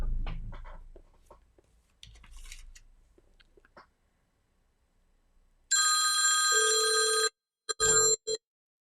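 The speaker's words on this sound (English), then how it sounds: "Alexa, call my cell phone." Cell phone ringing from an incoming call placed by an Alexa smart speaker during a Faraday cage test, a loud electronic ringtone burst followed by brief repeated rings, after quiet stretches of faint movement.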